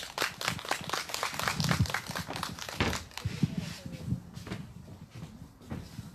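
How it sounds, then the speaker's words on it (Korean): Audience at a candlelight rally clapping to welcome a speaker, a sparse, uneven patter of hand claps that swells and then thins out, with a little background voice. "큰 박수로 맞이해 주시면 고맙겠습니다"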